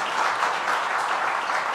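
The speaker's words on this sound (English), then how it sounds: "a round of applause for our Mayor Mike Spano" Audience applause for a mayor at a New York state affordability announcement, a steady, dense wash of many hands clapping close and loud with no gaps.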